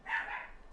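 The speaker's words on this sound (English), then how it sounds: "my dog's going crazy in there." A single short bark from a dog indoors, slightly muffled and moderately faint, with no other sound around it.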